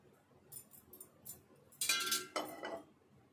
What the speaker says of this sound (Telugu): ఇప్పుడు ఒక దోశ పేనమైనా ఇట్లాంటిదైనా స్టవ్ పైన పెట్టుకొని కొంచెం నూనె వేసుకోవాలి.